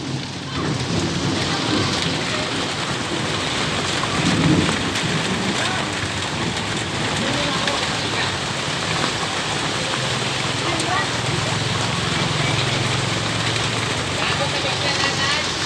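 Steady heavy rain pours down outside a Filipino street food stall, with thunder rumbling faintly underneath. A few brief voices break in over the downpour.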